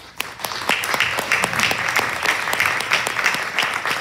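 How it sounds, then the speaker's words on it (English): An audience at a Chicago Spanish-language book fair gives warm, steady applause, with dense clapping from many hands that continues throughout. "Nice warm applause"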